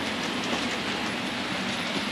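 A model railway HST train runs through a tunnel on a layout, giving a continuous close rumble with fast clicking wheel noise, steady and with no voices.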